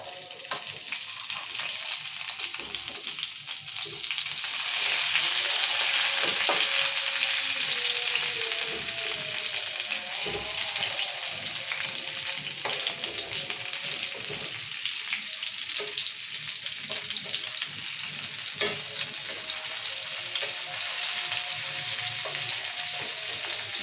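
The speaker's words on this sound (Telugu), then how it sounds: "సో అందుకని కొంచెం ఆయిల్ వేసుకొని ఇట్లా ఫ్రై చేసుకున్నాం" Fish pieces frying in oil in a pan, a continuous close crackling sizzle filling the whole stretch, with faint stirring and occasional small pops, no voices over it.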